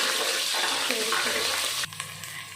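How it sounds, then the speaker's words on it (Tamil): Onions for sambar rice sautéing in a pan, a loud, dense sizzle up close that suddenly drops to a quieter crackle partway through, with a few light stirring knocks after. "இந்த வெங்காயம் போடுறோம் நல்லா வதக்கி விடுறோம்"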